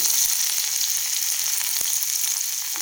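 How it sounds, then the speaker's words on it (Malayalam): Crushed garlic and crushed ginger fry in hot oil with a steady, close, even sizzle that holds for about three seconds with no voices. "എണ്ണ ചൂടായിട്ടുണ്ട് നമുക്ക് ആദ്യമായിട്ട് വെളുത്തുള്ളി രണ്ടല്ലി വെളുത്തുള്ളി ചതച്ചതാണ് ഒരു കഷ്ണം ഇഞ്ചി ചതച്ചത്"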